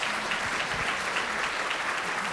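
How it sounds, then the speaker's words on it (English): Keynote audience applause, a continuous, fairly soft wash of many hands clapping at moderate distance, with faint murmurs beneath. "y'all can clap for that"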